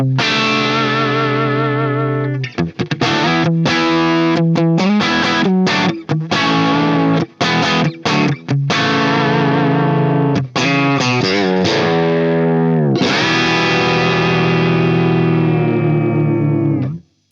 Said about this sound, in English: So now let's see how channel 1 sounds like when you dime the preamp gain.